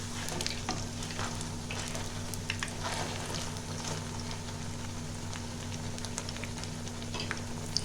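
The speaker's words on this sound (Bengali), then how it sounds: "এটা একটু লাল করে ভাজা হবে, ধারগুলো একটু লাল লাল হয়ে যাবে।" Malpua batter frying in hot oil, a steady close sizzle with soft crackling and bubbling that carries on evenly without any talk.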